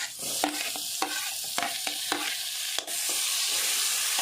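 Onions frying in a pan for chicken sukka, a steady close sizzle broken by several sharp scraping stirs of a spatula, with no voices.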